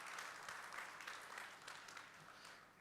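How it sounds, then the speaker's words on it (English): Audience applause at a founders' talk event, a steady broad patter of many hands clapping, faint and distant throughout. "One big round of applause once more,"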